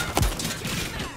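A burst of shotgun fire from an auto shotgun in Call of Duty Modern Warfare 3 rings out with one sharp, heavy blast early on, followed by a trailing reverberant tail.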